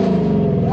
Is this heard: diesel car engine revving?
yes